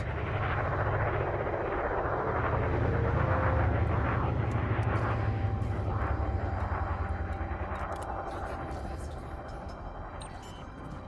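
Spaceship auto launch in Elite Dangerous, a low rumbling engine hum that builds and holds steady before gradually fading, with a person talking over it.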